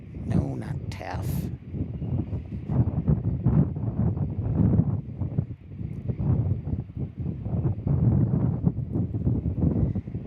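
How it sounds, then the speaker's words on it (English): Strong gusty wind buffets a microphone outdoors at Kansas City International Airport, a continuous low rumbling roar with a few sharper bursts near the start, heard close and loud throughout. "Yes, I know it's a little windy today"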